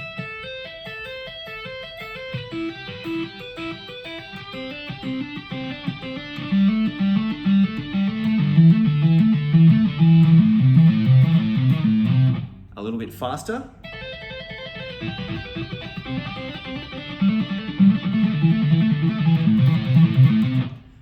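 Fast electric guitar pentatonic tapping runs in a bright, repeating pattern, briefly broken by a pause, with a voice speaking over part of the playing.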